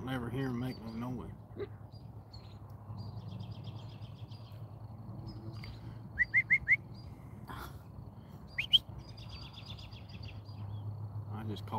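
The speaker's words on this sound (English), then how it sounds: "I just called in a bird." Bird chirping outdoors after being called in: a few short, sharp chirp bursts around the middle, with fainter high trills at moments, under a steady low hum and sporadic background voice.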